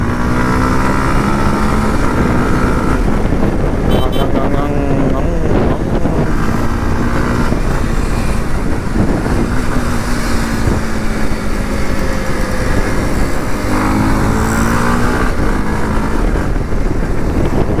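Kawasaki KLX 230 dirt bike riding along a road, its engine droning steadily with shifting pitch as it accelerates, with heavy wind buffeting the microphone throughout and a rider talking now and then.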